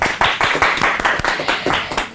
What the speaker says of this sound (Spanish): Hoy estamos con Lérica, por favor, un aplauso, por favor.